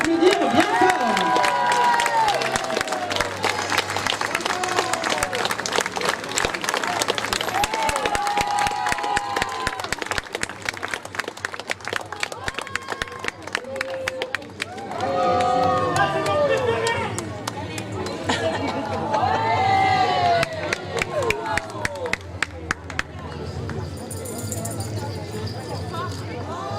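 A crowd at an outdoor Venetian costume event in Chanaz claps in a rapid, sustained rhythm with some cheering, while voices talk over the applause nearby.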